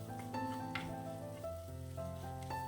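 Tomatoes and onions frying in a pan, a steady close sizzle with occasional stirring scrapes, no voices.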